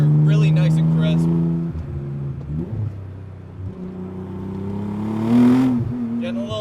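A 500 HP Nissan 300ZX Twin Turbo accelerates hard through its gears with loud engine revs that climb, break and climb again at each crisp shift. A voice talks over the engine.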